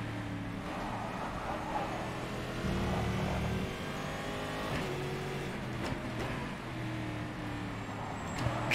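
Race car engine in rFactor 2 droning steadily near and loud throughout, with shifting harmonic engine tones rising and falling as the car accelerates and changes gear.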